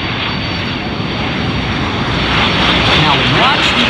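Patriots Jet Team jets at the Miramar Airshow, a steady loud roar of aircraft engines building slightly over four seconds, with a voice talking over it.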